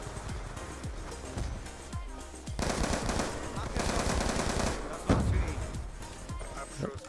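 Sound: automatic gunfire from spraying a magazine in Call of Duty Black Ops 2 video game

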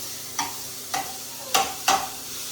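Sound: sautéing cluster beans with peanut garlic coriander paste

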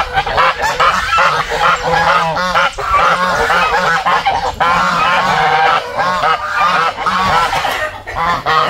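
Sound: geese honking on a farm

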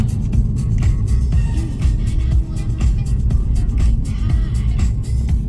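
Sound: car road noise while driving on back roads

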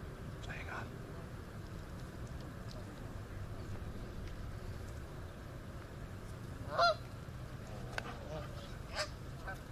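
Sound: bird calling outdoors

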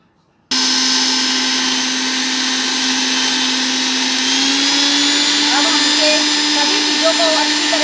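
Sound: blender grinding chutney for pakora stuffing

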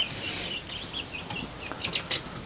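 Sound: chickens clucking

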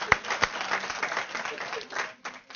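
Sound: audience applause for the speakers

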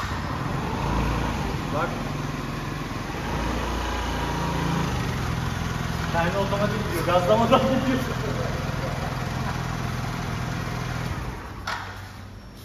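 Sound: motorcycle engine starting and idling

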